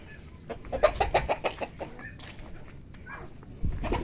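Chickens cluck in a loose, irregular series of short calls against quiet outdoor background noise, fairly close by, with a soft thump near the end.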